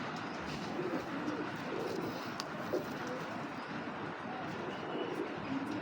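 Black checker racing pigeon cooing softly amid other pigeons, low repeated coos under a steady background murmur of a busy loft.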